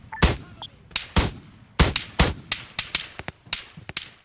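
Rapid gunshots from Arma 3's Antistasi mode ring out in an irregular string of about a dozen sharp, loud cracks over a few seconds, each with a short echoing tail, with no talking.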